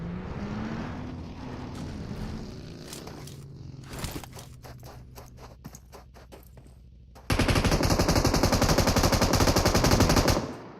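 A teammate fires in PUBG Mobile: quick scattered bursts of automatic gunfire, then a loud, sustained rattling volley that runs to the end.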